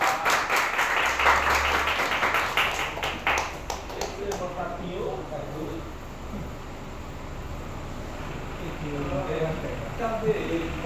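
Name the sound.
congregation applause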